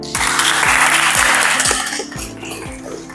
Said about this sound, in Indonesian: Tepuk tangan buat kelompok kalian.